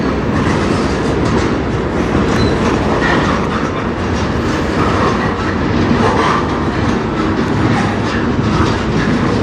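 A CN freight train on the Strathroy Subdivision rolls past close by in Sarnia, Ontario, a loud, steady rumble of railcars with rhythmic clickety-clack from the wheels throughout.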